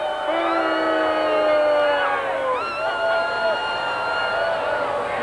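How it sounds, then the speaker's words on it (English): Crowd cheering and whooping at an RC air show, several voices rising and sliding, loud and close, with a fresh burst of shouts midway. "I heard somebody cheering for the Black Baron"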